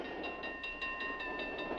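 Train running on rails at about 65 miles an hour in a 1955 film, with a steady rumble and a fast, regular clickety-clack of wheels over rail joints, heard alone at moderate, somewhat muffled level.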